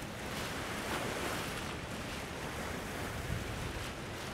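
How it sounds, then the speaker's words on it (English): Water rushes through open hydroelectric dam gates on the Muskegon River as a continuous, dense, roaring wash with no break and no voices. "that is an impressive amount of water coming through those gates"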